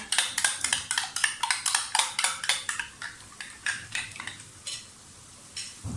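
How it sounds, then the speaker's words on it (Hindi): Eggs whisked briskly in a bowl, a fast run of bright metallic clicks and taps that slows and thins toward the end, close and clear with no talk. "अंडे फेंट के रखने लगी एक साइड पे"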